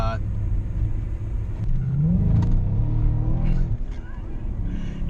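A Mercedes-Benz W219 CLS 55 AMG creeps along at low speed with stability control on. Its deep engine rumble swells into a rising rev midway, then settles back, with a voice talking over it.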